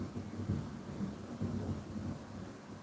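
Rolling thunder grumbles at a moderate distance during a storm in Bicol, low and uneven in its swells, with a faint hiss of rain behind it.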